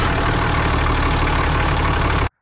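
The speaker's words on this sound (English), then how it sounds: "Just got to start up the engine, let it run for 5 to 10 minutes or so" A Cummins 6.7L diesel pickup truck engine idles steadily and loudly up close, a continuous low rumble with a knocking diesel clatter, running alone until it cuts off abruptly at the end.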